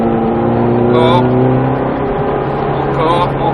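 A Ferrari F430 engine on the Circuit des Ecuyers track, revving and pulling under acceleration with a steady, loud, close droning tone that shifts pitch slightly as the throttle changes, while a voice coaches from inside.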